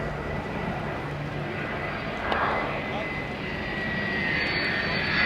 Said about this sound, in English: On the right is the F-16 conducting a low fly-through for a visual inspection.